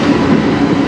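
A CN manifest freight train with locomotives 3091 and 3280 rolls past in Sarnia, Ontario, giving a steady, loud, broadband rumble of wagons with faint wheel clatter and no break in the noise.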